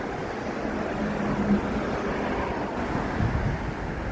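Cool wind blows steadily outdoors under clouds near mountains, a continuous broad rushing hiss with soft gusty swells and no talk.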